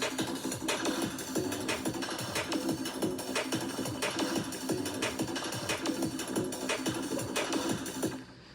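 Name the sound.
mechanical percussion with conga topper loop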